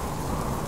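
Rain falls with thunder in a wilderness setting in January: a steady, dense hiss of rain with a low rumble underneath, constant and unbroken for under a second.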